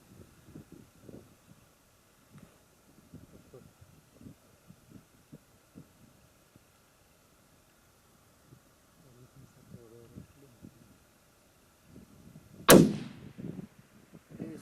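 A single loud rifle shot rings out while hunting Mid Asian ibex in the mountains of Kyrgyzstan. It is sharp and sudden and echoes briefly, following quiet, murmured talk and breathing between people.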